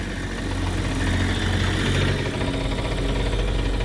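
A small two-stroke dirt bike engine idles close by, a steady low buzzing drone with an even, slightly uneven throb and no revving, heard alone.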